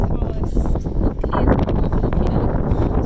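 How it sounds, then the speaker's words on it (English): Strong wind buffets the microphone on the summit of an old volcano, the highest point on Easter Island, a constant loud low rumble with gusty swells throughout, and a voice speaks faintly underneath. "it's extremely windy up here"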